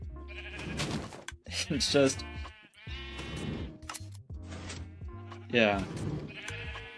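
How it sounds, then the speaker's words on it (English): Sheep bleat repeatedly in Minecraft as a flock of shorn sheep circles on a grass farm, their calls loud and close and mixed with someone talking over them. "now there's just a bunch of naked sheep going in a circle"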